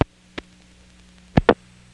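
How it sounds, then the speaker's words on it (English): Relay contacts in a step-by-step telephone exchange in Kenly or Clayton, North Carolina, click back to normal as dial pulses are repeated: a sharp single click, then a pause and a quick close pair of clicks, with no talk. "That's a relay arrangement that operates to improve the accuracy of the dial pulses over those"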